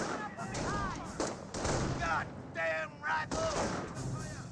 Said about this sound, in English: They are receiving a bit of fire there and not really firing back at him.